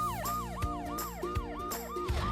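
A police siren wails in a fast repeating up-and-down pattern, loud and close, cycling about every third of a second, alone without talk.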